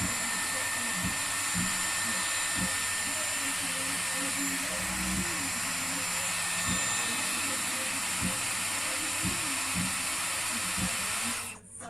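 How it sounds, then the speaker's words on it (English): A Dyson Airwrap hair styler runs on its cold air setting, a steady, loud airflow hiss lasting almost the whole stretch before cutting off at the end, with a few faint thumps of handling. "I'll pull this down to the cold air, and the cold air will set the curl."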